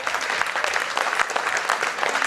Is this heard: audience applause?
yes